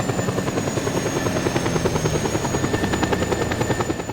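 Military helicopter in the video game Just Cause 2, a steady loud rotor chop with rapid rhythmic thumping and a high whine running throughout, close and continuous.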